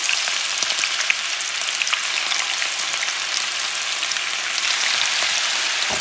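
Steady, loud sizzling and crackling of Puerto Rican carne frita frying in a hot pan just above medium heat, with occasional pops and a light stir, close up.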